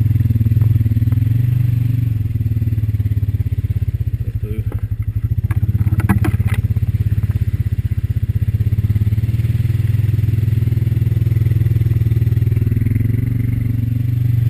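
Honda Rancher 420 ATV rumbling through a muddy section on a gas line trail, a loud, steady, close engine drone with brief clattering and splashing in the middle.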